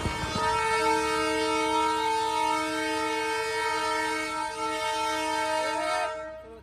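The Darjeeling toy train sounds its horn at the station: a loud, sustained, rich horn blast that holds for about six seconds before cutting off, with a brief falling tone at the end.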